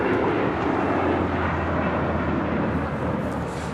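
An Emirates Airbus A380 arriving at LAX produces a brief, steady, low jet rumble that fades slightly toward the end.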